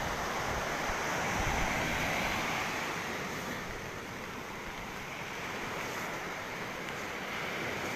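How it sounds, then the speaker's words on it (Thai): Sea waves whipped up by Storm Pabuk, with long lines of white surf, a continuous broad roar of breaking water mixed with wind rush, fairly even and moderately loud throughout. "ประมาณ 1-2 เมตรนะครับคลื่นตอนนี้นะครับเป็นแนวยาวเลยครับ"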